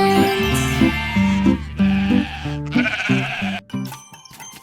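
Bleating sheep voices ring out over a melodic children's nursery-rhyme tune, the calls repeating in a bouncy rhythm with the music.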